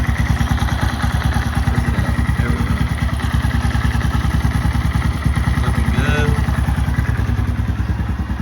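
A 2015 Honda Grom runs after an oil change with a steady, rapid, close-up thumping idle, and a voice speaks briefly over it.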